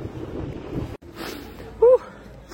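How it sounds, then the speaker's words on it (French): Wind buffets a camera microphone beside a rough, stormy sea, a steady rumbling roar with a brief dropout, and a voice speaks over it. "J'ai du vent autour."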